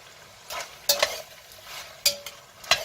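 A pot of vegetable beef soup with basil, oregano and bay leaves is stirred with a spoon, giving a few sharp knocks and scrapes against the pot over a quiet, faintly bubbling background with no speech.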